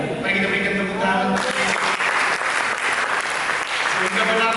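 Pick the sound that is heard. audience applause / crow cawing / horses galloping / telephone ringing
audience applause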